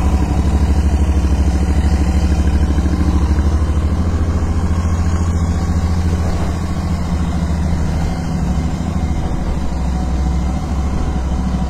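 A Royal Enfield Interceptor 650 with stock exhaust idles steadily, a close, loud twin-cylinder thump with mechanical clatter, continuous and unbroken with no voices.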